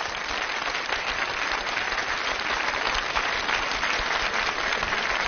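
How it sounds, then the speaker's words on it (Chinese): An audience at a televised children's talent show greets a kindergarten choir from Jiamusi, Heilongjiang with sustained, dense applause, an even roar of many hands clapping that holds steady throughout. "掌声欢迎。"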